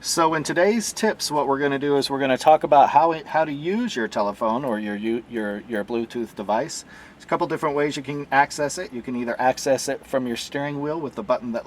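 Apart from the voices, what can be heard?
No everyday noise stands out behind the speech.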